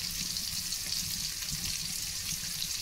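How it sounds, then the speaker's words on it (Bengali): Jackfruit seeds and shrimp frying in a pan, giving a dense, continuous sizzling hiss with small crackles throughout, steady and close. "আজকে আমি এই যে নতুন রেসিপি কাঁঠালের আটি চিংড়ি মাছ ভাজি করছি"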